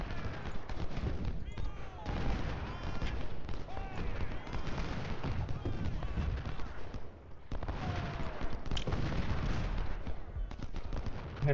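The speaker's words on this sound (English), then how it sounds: "Hit him again with the shotgun blast." Massed gunfire from a Civil War strategy game battle, shotgun-like blasts and crackling volleys rattling continuously at a distance, with someone talking over the fighting.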